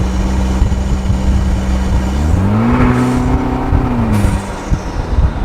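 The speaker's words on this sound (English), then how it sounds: "the sound of that turbo and the way it spools up and that wastegate" A 2020 Vanderhall Venice engine drones steadily, then its tone rises as the turbo spools up, followed by a sharp wastegate hiss as pressure releases; loud and close.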